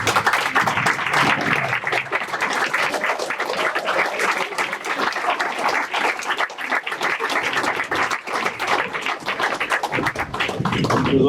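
A crowd at a sports Hall of Fame banquet gives a long, steady round of applause for the members standing, the clapping dense and continuous throughout.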